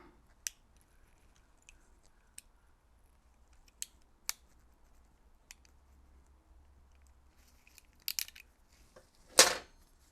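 A seal is cut out of a BMW E46 steering rack with sharp, isolated snips and clicks in near silence. Two quick cuts come close together late on, followed by one louder crunching snip.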